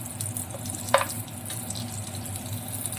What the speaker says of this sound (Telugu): ఇలా 2 వైపులా మంచి కలర్ వచ్చేలాగా ఫ్రై చేసుకోవాలి.